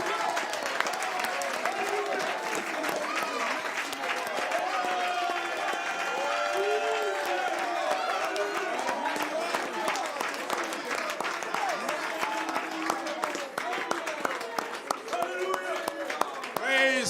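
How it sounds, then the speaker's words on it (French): A church congregation erupts in applause and acclamation during a French-language sermon, scattered clapping and cheering mixed with a preacher's voice and shouts, moderately distant and continuous. "Oh, donnez une acclamation, Seigneur."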